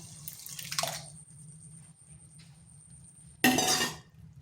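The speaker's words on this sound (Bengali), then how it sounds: "এখানে দিয়ে দিচ্ছি সেদ্ধ করে রাখা ডালটা।" Boiled red lentils poured into a fried, cooked spice mixture in a pan, giving a brief wet splashing slop near the start and a louder sloshing burst toward the end over low background hum.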